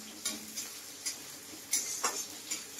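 Chopped onions sizzle softly in a pan while a utensil scrapes and taps against it, several sharp stirring clicks at irregular intervals over a quiet fry.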